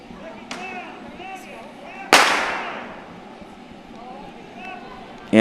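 A starter pistol fires with a single sharp crack to start a girls' 1500 meter track race, loud and close, with a fading tail, over crowd noise and commentary.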